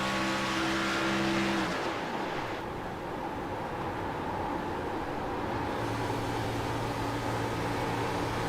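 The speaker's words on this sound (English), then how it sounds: "I can hear him shut his engine off." A race car engine idles in the pits with a steady harmonic drone, then shuts off, leaving broadband noise before a lower engine hum returns near the end.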